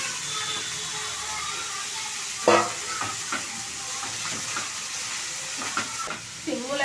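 Cabbage frying in oil with curry leaves, chana dal and peanuts: a soft continuous sizzle and hiss with occasional stirring scrapes and a louder clatter, close by under a low background, no clear talk.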